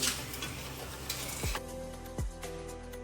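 Beetroot frying for halwa sizzles loudly and steadily in a pan, with the scrape and rustle of stirring throughout and a couple of clunks from the spoon or pan.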